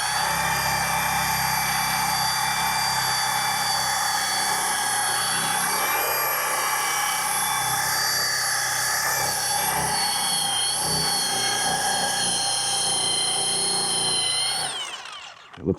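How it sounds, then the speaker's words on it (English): A car polishing buffer spins at full speed while working out a paint scratch, a loud, steady, high-pitched whine that holds for about fifteen seconds before winding down abruptly at the end. "Got my buffer here, so same thing over here. Basically I have it full speed here."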